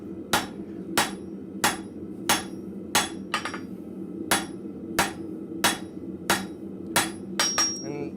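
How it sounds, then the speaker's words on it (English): Hammer blows land on hot steel on an anvil in a steady rhythm of about a dozen sharp, ringing strikes, roughly one every two-thirds of a second, close and loud with no talk. "you're concentrating your blows on a smaller surface than if you're just on the flat of the anvil"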